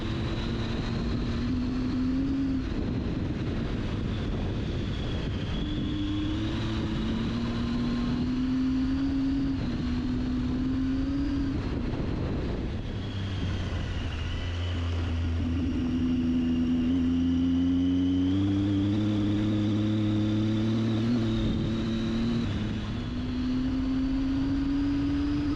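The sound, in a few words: Triumph Tiger 800XC motorcycle 800cc triple engine riding on dirt road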